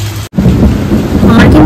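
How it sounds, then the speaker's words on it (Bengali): Thunder rumbles through a heavy downpour under dark clouds, a loud, low, rolling boom over the constant close hiss of rain, with no one speaking. "মারাত্মক লেভেলের বিদ্যুৎ চমকাচ্ছে, আর তার সঙ্গে মেঘের গর্জন।"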